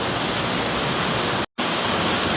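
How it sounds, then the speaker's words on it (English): The Kadunce River waterfall in Box Canyon pours as a steady broadband rush, loud and close, with a brief cut to silence midway before the roar resumes. "Kadunce River, Box Canyon, waterfall"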